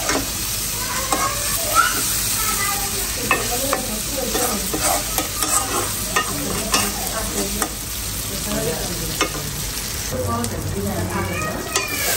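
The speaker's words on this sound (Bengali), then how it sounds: "এখানে হলো মশলা কষাইতেছি, আদা রসুন পেস্ট করে দেওয়া হয়েছে" Spices frying with ginger garlic paste in a pan, stirred with repeated scraping strokes over a steady close sizzle, loud and continuous with no talking.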